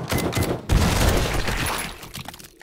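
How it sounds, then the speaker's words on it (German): A zombie blows up in the survival game 7 Days to Die, a loud, sustained burst of booming, crackling blast noise that fills the clip and slowly trails off over a couple of seconds. "Okay, der explodiert."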